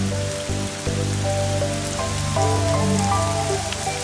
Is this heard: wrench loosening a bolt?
no